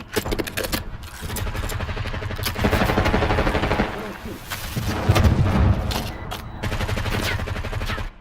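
Dense gunfire crackles in Call of Duty Warzone, rapid automatic bursts and booming shots layered together, loud and close, while a voice talks over the shooting.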